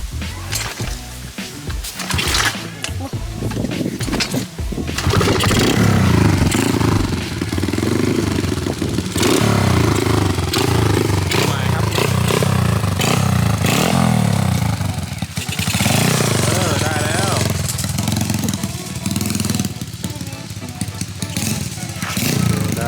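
A manual-transmission car's engine revs steadily and loudly, close by, as the clutch is let out during a driving lesson, a rough droning roar with rattling and clatter over it and a voice talking now and then.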